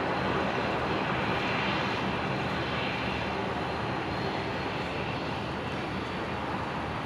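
A Jetstar airliner lining up on the runway at Brisbane Airport produces a steady, broad engine roar heard from a distance, continuous and even throughout with no voices.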